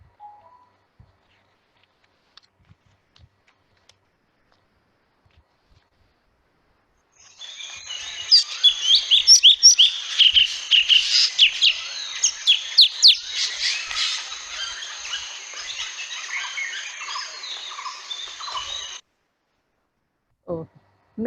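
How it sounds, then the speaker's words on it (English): Bright, busy birdsong from a male and female pair, a dense run of rapid chirps and warbled notes lasting about twelve seconds, fairly close and clear, after a quiet stretch with no talking. "You can hear the bird."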